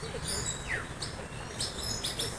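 A bird chirps in a tree, a few short, high tweets coming and going over a steady outdoor background murmur.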